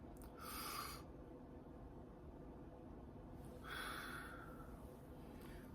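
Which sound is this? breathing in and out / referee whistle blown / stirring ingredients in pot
breathing in and out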